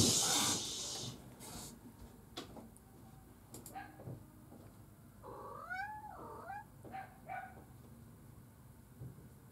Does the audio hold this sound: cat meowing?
yes